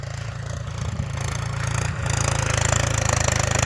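A tractor engine idles in a village, giving a steady, close, low chugging rumble with even pulses throughout that grows slightly louder toward the end.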